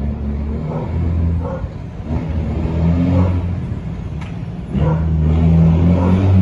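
A truck pulls away and accelerates nearby, its engine giving a steady, loud low rumble that climbs and strengthens toward the end, with no voices over it.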